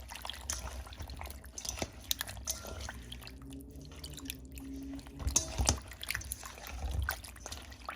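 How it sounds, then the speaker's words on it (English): Fresh hibiscus (sorrel) petals are rinsed under running water, giving irregular close drips, splashes and light handling clatter at moderate volume with no talking. "Just gonna rinse them, wash them off a little bit."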